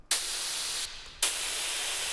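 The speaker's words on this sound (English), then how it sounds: "that sounds more like a real spray can" Pitched-down spray can hiss with a chorus effect, heard as two sustained bursts separated by a short gap, dense and close with no other sounds.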